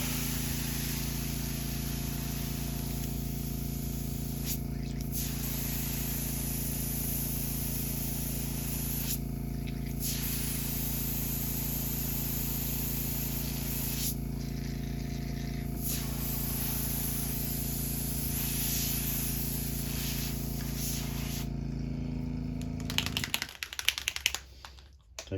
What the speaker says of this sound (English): Clean my airbrush.